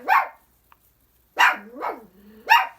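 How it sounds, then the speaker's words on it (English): A dog barks at a wall indoors, three loud, close barks spaced apart, the last two joined by a low drawn-out whine between them. "He's just barking at the wall here."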